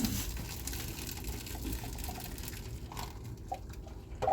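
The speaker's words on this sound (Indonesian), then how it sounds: "Airnya gue buang." Boiled water poured out of a cooking pot after an embryo-egg (balut) boil, a steady continuous splashing gush that runs for the whole stretch, with no talk.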